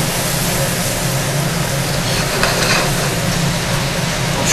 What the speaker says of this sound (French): Et ensuite on va intégrer notre morceau d'ananas comme prévu.